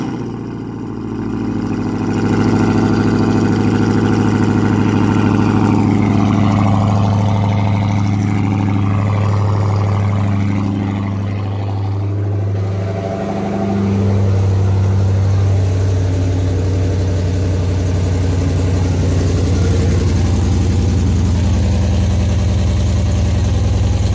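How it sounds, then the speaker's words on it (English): Dodge Hellcat V8 with catless stainless mid-pipes starts up and settles into a loud, deep, rumbling idle. Its pitch wavers through a few light swells before it steadies, close and continuous with no talking. "let's fire it up and see how many leaks we got."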